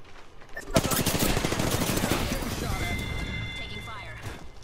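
Rapid automatic gunfire in a tactical shooter game crackles in dense bursts, loud and close. Fainter shots and whizzing effects continue beneath it, and players talk over the shooting.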